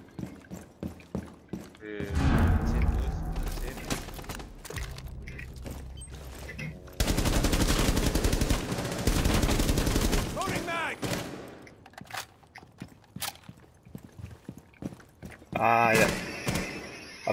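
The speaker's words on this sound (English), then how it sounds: "I've just shot a hole through that wall" Bursts of automatic gunfire in a tactical shooter game as rounds punch through a wall, long sustained volleys separated by quieter stretches of scattered thuds, with a voice talking at times.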